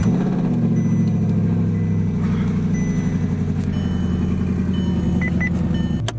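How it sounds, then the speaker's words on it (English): An Audi R8 engine runs in the snow after a cold start, with a steady, loud, close-up idle drone that holds level from start to finish. A faint beep is heard near the end. "it's gonna be a cold start"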